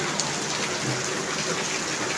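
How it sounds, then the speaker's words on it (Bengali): Sudden heavy rain pours down during a storm, a dense, steady hiss of falling water that stays loud and even from start to finish, with no voices. "হঠাৎ বৃষ্টি এসেছে জানো"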